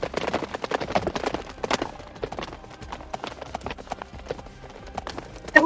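Horses gallop in a battle video game set at Shiganshina, with rapid, uneven clusters of hoofbeats overlapping in quick clip-clop patterns, moderately loud throughout and ending in a sharper hit.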